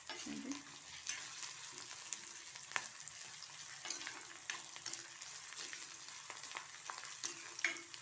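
Onions and green chillies fry in a pan with a soft continuous sizzle, while a utensil scrapes and stirs at an irregular rhythm, close and fairly quiet.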